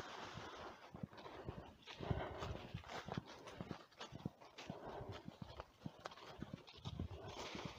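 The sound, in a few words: horse hooves clip-clopping on a walk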